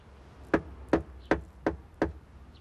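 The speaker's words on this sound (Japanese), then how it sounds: "ドアをノックして中の様子を伺います。" Knocking on an apartment door during a tax-collection seizure visit: five sharp, evenly spaced raps about 0.4 seconds apart, close and clear with no voices.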